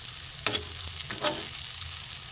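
A paratha fries in a small amount of oil, giving a steady close sizzle with a few sharper crackles and scrapes as it is turned over, and no voices.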